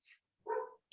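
A house dog barks indoors in short bursts: a brief high yip, then a fuller bark and the start of another, fairly close and alone without talk.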